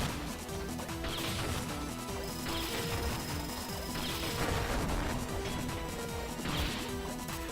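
Grenade explosions in the 2D action game Iconoclasts during a secret boss fight: repeated heavy crashing blasts land every second or so over dense game music and effects, loud and close, with no one talking.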